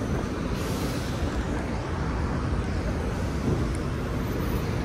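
A London Underground train rides between stations, with loud, steady rumbling and roaring wheel and track noise that fills the whole stretch, close up and with no break.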